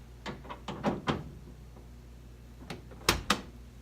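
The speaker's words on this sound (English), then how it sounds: "And to make sure everything works, door shuts, door opens." A 1965 Ford Mustang door being opened and shut several times, giving a string of distinct thunks and latch clicks at close range with short pauses between them; two louder, sharper shuts come near the end.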